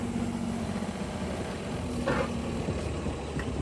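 A cruising boat's engine is throttled down while pulling up to a mooring ball, a steady low idling rumble running unbroken and fairly close.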